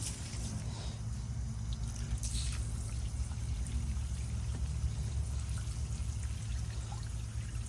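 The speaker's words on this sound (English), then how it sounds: "just use the garden hose without a nozzle on it." Water from a garden hose without a nozzle rinsing a K&N intake filter for an Audi S4 B8.5, a steady close pouring and splashing that runs without a break and no voices.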